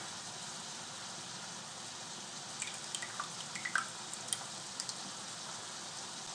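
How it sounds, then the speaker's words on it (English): Ragu pasta sauce poured onto goulash in a pan, faint soft drips and small wet plops scattered over a low steady background, no voices. "Now Donna, what I'm going to do next is pour a little bit of sauce on it"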